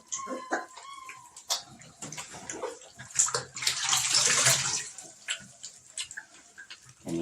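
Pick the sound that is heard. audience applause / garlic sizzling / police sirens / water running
water running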